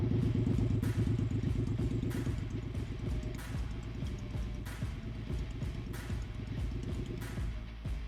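A 2018 Triumph Bobber with Thornton Hundred drag pipes idles steadily, its deep, loping exhaust rumble loud and close with a rhythmic mechanical clatter throughout, no talking.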